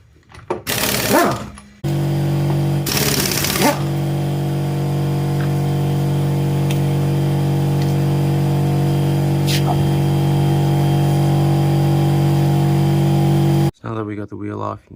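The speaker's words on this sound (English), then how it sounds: "now we'll take an impact and take the bolts off." An impact gun on a Mitsubishi RVR rattles off 19 mm wheel bolts in two short, loud bursts, followed by a long steady mechanical drone that cuts off near the end.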